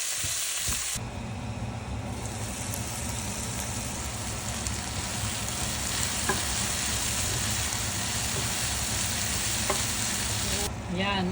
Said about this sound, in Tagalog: Gasahin natin ng mabuti ang bawang at sibuyas.